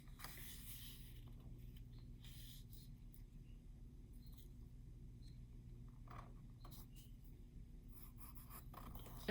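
Drawing perspective lines toward a vanishing point for a one-point perspective exercise, faint pencil strokes on paper scratching in short separate passes, quiet and close over a low steady hum, with no talk.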